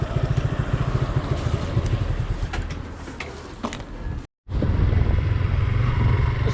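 A Suzuki Gixxer 150 motorcycle engine runs with a steady low rumble that eases slightly midway. The sound cuts out briefly, then returns loud and close.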